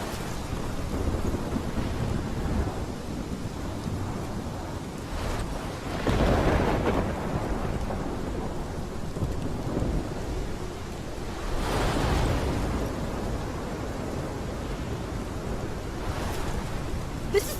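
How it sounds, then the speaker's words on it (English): A Life is Strange video game thunderstorm with steady heavy rain and two deep rolling thunder swells, loud and continuous, no voices. "This is my storm."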